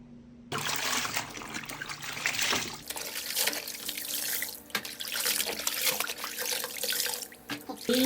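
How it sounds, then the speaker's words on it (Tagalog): Clothes being rinsed in water, with a continuous splashing, trickling wash that starts abruptly and continues with sloshing movements up close, no voices. "Banlawan muna natin lahat ng damit na yan."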